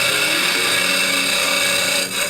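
A wood lathe cuts into a spinning wooden workpiece, throwing off compressed shavings, with a steady, loud, continuous scraping whir that holds evenly for the whole stretch and briefly dips near the end; no one talks.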